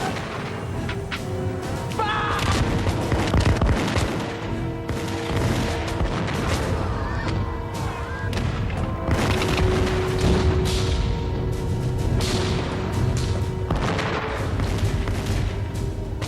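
Musket volley fired at British lines in a Revolutionary War battle, about 30 paces from the guns: dense, continuous crackling gunfire and booms over a loud battle din with faint voices, lasting throughout.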